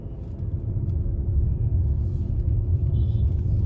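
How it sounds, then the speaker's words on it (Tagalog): An MG HS Hybrid petrol engine starts up and runs under its electric drive, a steady low rumble that swells slightly after the first half second and holds close and even throughout. "And the engine kicks in."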